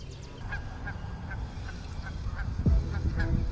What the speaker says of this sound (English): And I ain't trying to fight no goose today.